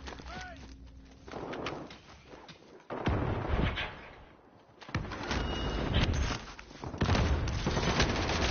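Heavy, chaotic gunfire from many players in a crowded Warzone match, with bursts and volleys crashing in waves that swell loudly then ease, while someone talks excitedly over the shooting.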